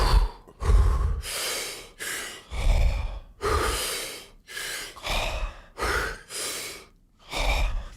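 Slow, deep breathing exercise with long inhalations filling the lungs and relaxed exhalations, about six close, loud breath cycles in rhythmic sequence with no talking.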